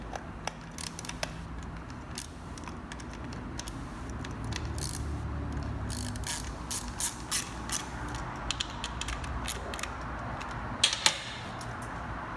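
An 8 mm socket wrench ratchets on a Vespa small-frame carburetor, giving a close, faint series of quick clicks in short bursts over a low hum, with no voices.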